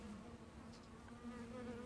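Honey bees drone steadily inside an open hive during a beekeeper's inspection with a smoker, a dense continuous buzz holding a steady pitch, close and fairly loud throughout with no voices.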